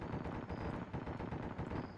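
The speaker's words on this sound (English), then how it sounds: "There's the AA fire." Anti-aircraft fire in Arma 3 thuds out as a constant rumbling barrage of rapid, dull bursts, with no voices over it.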